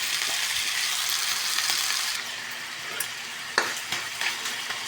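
Rice stir-frying in a hot pan for home-cooked fried rice, a steady loud sizzle with scraping stirs and a few sharp spatula clinks near the end.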